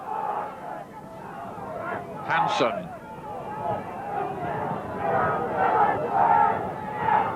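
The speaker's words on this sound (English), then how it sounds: "Crowd setting up a tremendous noise." A rugby league crowd at a Keighley versus Salford match makes a loud, continuous roar with swelling cheers, heard under steady match commentary.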